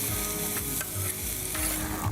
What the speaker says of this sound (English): What I'm doing here is I'm frying the bacon and the onion.